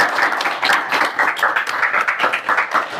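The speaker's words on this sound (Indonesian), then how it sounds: "Tepuk tangan dulu" A small audience at a talk show about regional musicians gives an energetic round of applause, with close, distinct handclaps in a quick uneven rhythm throughout.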